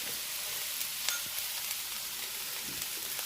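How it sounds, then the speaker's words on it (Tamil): Onions fry in a little oil in a pan while bread masala is made, giving a steady close sizzle with faint stirring scrapes and no voices. "இப்போ கொஞ்சமாக எண்ணெய் விட்டுட்டு வெங்காயம் போட்டுக்கலாம்"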